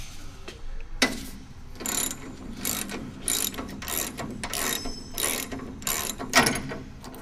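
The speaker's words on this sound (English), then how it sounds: "And we'll remove the shaft bolts." Ratcheting clicks from a wrench loosening the shaft bolts on a 200mm wound energy recovery cassette, a series of sharp, close mechanical bursts repeating roughly every half second to second, with no talk.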